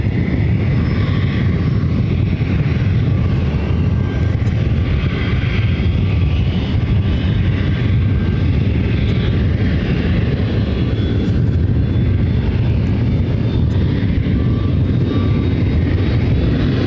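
A Southwest Airlines Boeing 737-800 arrives at Ontario airport in California, its loud, continuous broadband jet roar filling the air steadily with no voices over it.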